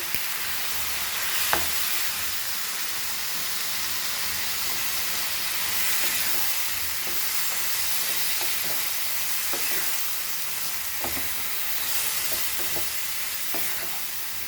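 Masala paste for Goan beef biryani being stirred in a hot pan, a steady loud sizzle and hiss with intermittent spoon scrapes and taps throughout.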